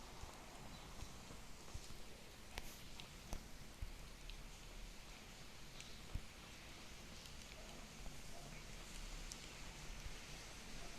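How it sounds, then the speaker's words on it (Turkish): Constant patter of rain falling in the Android game City Theft Simulator, an even hiss with scattered sharper drops and ticks throughout. "Yağmur hızlandı."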